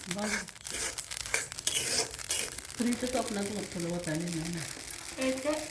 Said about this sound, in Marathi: आता हे दगडी फूल सुद्धा भाजून घ्यायचं आहे. मोहरी भाजून घ्यायची आहे.